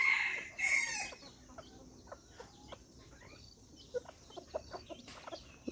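Bantam chickens cluck and a bantam rooster crows loudly at the start, followed by a run of scattered short clucks and calls from birds close by.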